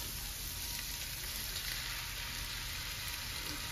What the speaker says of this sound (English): So you're just going to let that rice kind of cook a little bit.